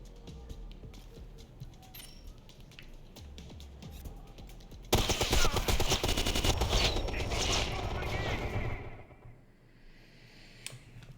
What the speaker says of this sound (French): C'est pas toujours évident hein, avec une mitrailleuse calibre 50.